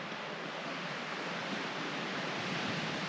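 Steady, broad wash of ocean surf on a New Zealand shore, a continuous hiss and rumble at moderate distance with no voices.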